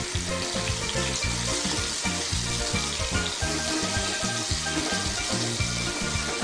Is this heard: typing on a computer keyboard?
no